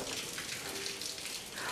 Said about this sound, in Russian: Где-то вода течет.